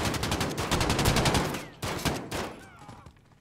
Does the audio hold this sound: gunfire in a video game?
yes